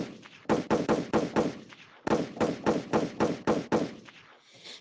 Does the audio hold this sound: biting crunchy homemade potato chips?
no